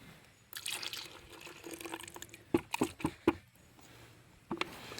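Water drips off an upturned coconut shell outdoors, several separate small plops and splashes landing close by at irregular intervals, the last after a short pause, over a soft background hiss and no talk.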